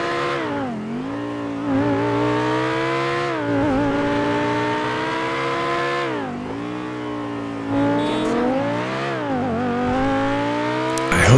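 The Obey Nine R, an Audi R8 V10 supercar in GTA 5, revs and accelerates through repeated gear changes, its loud harmonic engine note climbing and dropping in waves, close and continuous.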